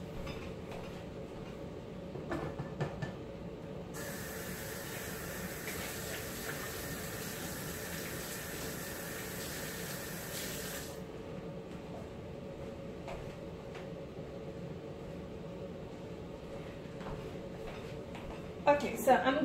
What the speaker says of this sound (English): I'm gonna get my hands washed up.